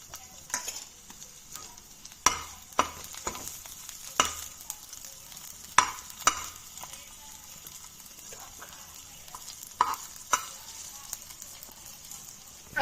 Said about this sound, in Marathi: आपला आलं लसूण थोडंसं परतलं